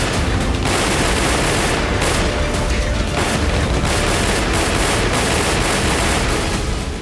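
Dense machine gun fire from Taliban fighters at the Pakistan-Afghanistan border, loud continuous bursts with heavy booming impacts filling the whole stretch.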